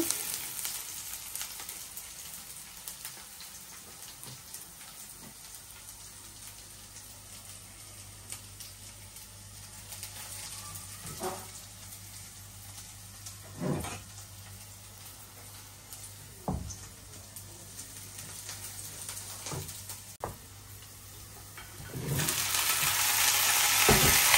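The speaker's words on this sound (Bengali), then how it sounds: "এই যে পেঁয়াজ কুচি দিয়ে দিচ্ছি, পেঁয়াজটা একটু ভাজা হইলেই সবজিটা দিয়ে দিব।" Chopped onion fries quietly in a pan in a home kitchen in France, a soft steady sizzle with occasional louder spatters and utensil taps, growing brighter and louder at the end.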